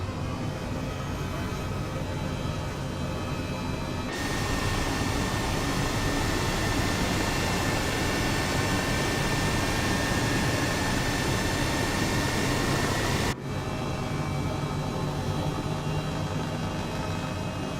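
Steady, loud turbine and rotor drone of an H135 emergency helicopter in Microsoft Flight Simulator, flying from La Seu d'Urgell toward Andorra, holding a continuous dense roar that swells slightly after a few seconds and shifts near the end, with no talking.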